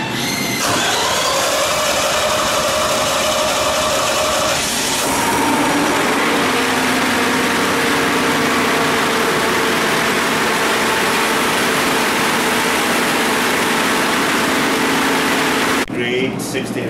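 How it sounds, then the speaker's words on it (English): A large generator engine runs loudly at around 1800 RPM in a building plant room, a steady heavy drone that holds throughout with a mechanical shift near the start and a sudden cut at the end. "I mean, it's an engine at the end of the day. Oh, it's not a normal engine"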